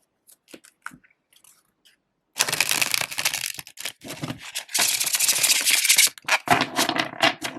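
A few soft card taps and clicks, then a dense rapid riffling flutter of tarot cards being bridge shuffled up close, repeated in bursts.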